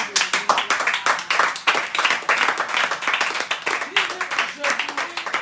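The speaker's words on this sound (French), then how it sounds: "Acclamons pour la parole de Dieu" A church congregation claps together in a lively, rhythmic burst of applause. Voices and cheers rise under and between the hand claps.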